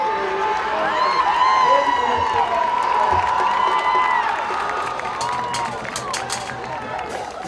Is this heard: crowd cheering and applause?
yes